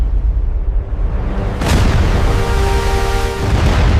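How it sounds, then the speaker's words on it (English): Distant rumbling gives way to a sharp, loud naval cannon blast in an Anglo-Dutch War sea battle that echoes and rumbles on for several seconds. "Cannon fire erupts across the strait."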